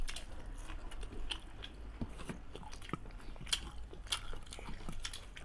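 Close, quiet chewing and crunching as someone eats saag greens with pork and rice, irregular bites and soft mouth sounds repeating throughout without talk.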